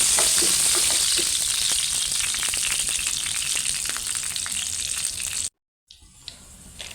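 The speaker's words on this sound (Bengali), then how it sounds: "তেজপাতা, শুকনা মরিচ দিয়ে দিলাম। নাড়াচাড়া করবো।" Bay leaves and dried chilies frying in hot oil, a loud continuous close sizzle with scraping stirs, cutting off abruptly near the end before faint sizzling resumes.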